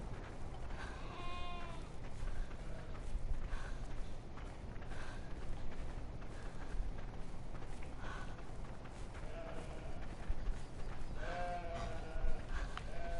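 Sheep in a video game bleat in several short, wavering calls over a steady noisy background, alone and without talk.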